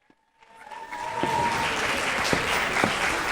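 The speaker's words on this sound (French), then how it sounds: "On applaudit très très fort pour les derniers" Applause from a school festival audience swells in quickly after a brief quiet start and holds steady, a thick wash of many hands clapping at moderate volume.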